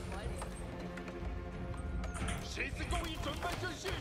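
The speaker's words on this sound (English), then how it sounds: "We're gonna get some horses out." Horse hooves clip-clopping in the real-time strategy game Age of Empires IV, a quick run of close hoof clatter under a speaking voice and game sounds.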